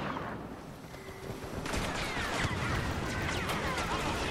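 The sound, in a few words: gunfire in Star Wars Battlefront video game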